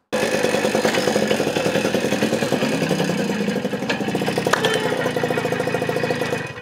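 A Sachs 505 moped engine runs close by, slightly smoky, with a steady rattling putter and light clatter that holds an even pace from start to finish.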